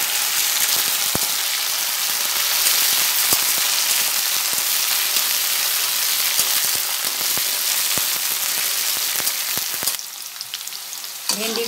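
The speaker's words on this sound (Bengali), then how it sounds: "তেল গরম হয়ে গেছে, ভেন্ডিগুলো আমি ভেজে নেব।" Okra fries in hot oil, giving a loud, dense, continuous sizzle with scattered sharp pops and crackles that drops off abruptly near the end.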